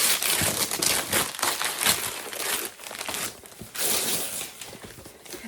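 Packaging from the items in a monthly subscription box is unwrapped close by, with continuous crinkling and crumpling in uneven bursts and no talking over it.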